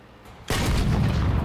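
A tank shell strikes and penetrates armor in the World of Tanks video game, a sudden loud booming impact that gives way to a sustained heavy rumble.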